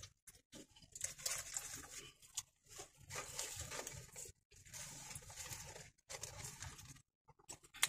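Rain patters on the roof of a parked car, heard from inside as a soft, steady drumming that breaks off in a few short pauses, with no talking.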